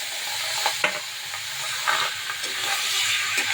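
Kohlrabi with ginger paste fries in oil in a pan, a steady close sizzle under repeated scraping stirs of a spatula, no voices.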